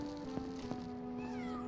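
A cat meows in a video game, one drawn-out, fairly loud mew with a wavering tone that rises and falls, heard alone without any talking.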